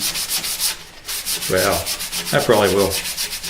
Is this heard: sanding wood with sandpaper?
yes